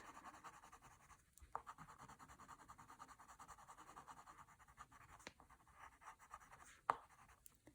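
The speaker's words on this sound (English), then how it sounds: "So I will shade the whole candle lightly and I'll go back and darken those edges." Soft, steady scratching of a colored pencil shading paper lightly, continuous strokes close up with a few sharper ticks, no voices.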